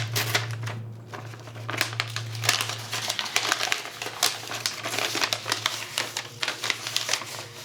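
Sheet of paper checked after a space heater fire test, crinkled and rustled up close in a dense run of crisp, crackling handling noises over a low steady hum.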